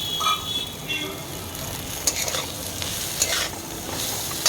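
Nuts tossed into a frying pan and stirred for a banana-flower dish, giving a soft continuous sizzle broken by a few sharp spoon scrapes and clinks, fairly quiet and close.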